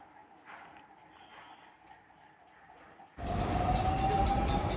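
A metro train rumbles past up close near Sambhaji Udyan, Pune, its steady roar rising abruptly after a quieter stretch of background noise, with a high whining tone riding on top.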